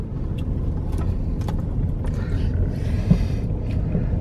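A buggy driving along with a steady, loud low engine and road rumble close by, with faint clicks and knocks over the drone.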